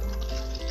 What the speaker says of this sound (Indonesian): kita masih perlu siram seperti ini dengan campuran air tadi